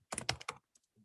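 Typing on a computer keyboard into an interactive learning tool, a quick cluster of several close, crisp keystrokes followed by a couple of fainter isolated taps.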